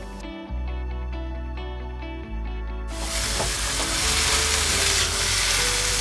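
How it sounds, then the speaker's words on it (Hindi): Milk with grated bottle gourd for halwa boils and sizzles steadily on full flame in a pan, a loud continuous bubbling hiss that swells after a few seconds as it is stirred. "इसको हम अच्छे से बॉईल करेंगे जब तक कि ये हमारा दूध अच्छे से सूख नहीं जाता है"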